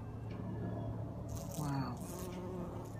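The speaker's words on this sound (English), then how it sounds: "in fact we have a bumblebee" A bumblebee buzzing in a UK garden among marigolds grown from seed, a steady low drone that swells briefly closer midway, over constant outdoor background noise.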